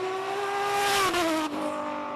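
An Audi S4 race car with a turbocharged five-cylinder engine screams past at a hill climb event, its rising engine note sweeping through gear changes, loud and close with a brief dip as it shifts.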